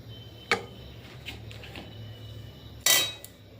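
Street-style chowmein noodles tipped into a pan and tossed: two sharp metallic clanks of utensil on pan, the second longer and louder, over a faint low background hum with little else.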